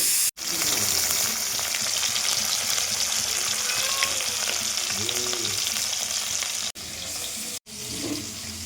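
Fish sizzles steadily in hot oil in a wok in a home kitchen, with a continuous bright hiss that drops out briefly twice near the end.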